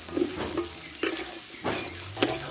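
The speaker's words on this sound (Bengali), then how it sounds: "এবার কষে রাখা কচুটা আমি এতে ঢেলে দেবো" Sautéed taro tipped into a pan and stir-fried, giving a steady close sizzle with a few sharp scraping stirs spaced through it, no talk.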